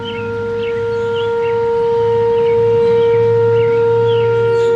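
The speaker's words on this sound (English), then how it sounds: "Does your all's storm siren in your town sound like that too?" A steady, droning town storm warning siren wails continuously, holding one sustained tone and slowly swelling in loudness, with faint background noise and chirps.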